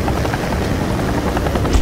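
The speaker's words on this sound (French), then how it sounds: "Un hélicoptère de lutte contre l'incendie est toujours utilisé lorsque le feu est très difficile à atteindre." A firefighting helicopter thunders close by, its rotor beating in a dense, rapid, continuous chop with loud engine roar filling the whole moment.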